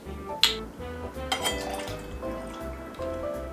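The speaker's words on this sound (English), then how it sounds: "I always pour it over the shaker just in case I spill any." Gold Bacardi rum poured over a cocktail shaker while mixing a Long Island Iced Tea, a close liquid trickle with small clinks and drips, heard alone without talk.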